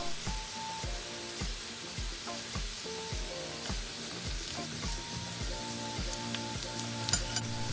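Garlic potato cubes sautéing in a pan until golden, with a continuous close sizzle broken by regular rhythmic scrapes of a spatula turning them, steady throughout with no voices.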